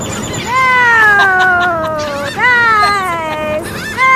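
Seagulls being fed call loudly at close range, several drawn-out, falling squealing cries in quick succession.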